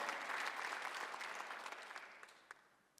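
Faint applause from a church congregation during a Sunday service, steady at first and then thinning out to scattered claps.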